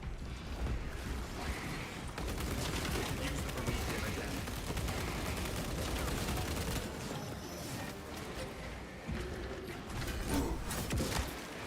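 Gunfire in the video game Space Marine 2 as a player shoots an enemy: dense, continuous rapid shots and mechanical clatter run through the whole stretch, with someone talking over it.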